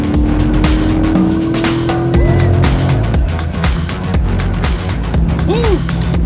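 A Corvette accelerates hard, its loud engine roaring close and steady throughout, with brief tire squeal and rising pitch sweeps layered over the continuous drone.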